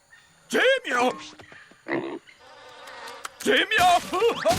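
Flies buzz around a jungle scene in a cartoon, a thin drone under loud shouting voices and scattered thumps.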